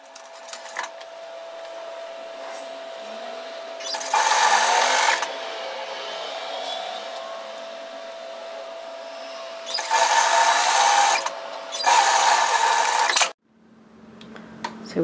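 A sewing machine stitches a seam on a flutter sleeve top, running in three loud whirring bursts separated by quieter stretches of an idling hum, then cutting off abruptly near the end.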